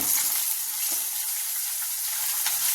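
Onions fry in hot oil with mustard seeds and cumin, giving a steady dense sizzling hiss that stays even throughout, close by and with no talking.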